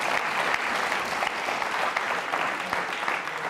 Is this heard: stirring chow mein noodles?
no